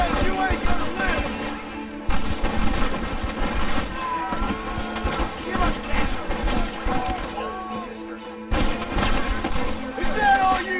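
Gunfire in Red Dead Redemption, repeated rifle and pistol shots crackling through a battle amid shouting voices and music, with bursts spread unevenly across the scene.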